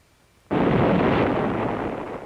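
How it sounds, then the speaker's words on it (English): A steam pressure tank explodes from superheated water, ripping copper tubing and control lines into the air: one sudden, massive blast that swells into a long, loud, roaring rumble, heard in a 1950 safety film. "As the tank explodes, the copper tubing and control lines are ripped up into the air with the tank."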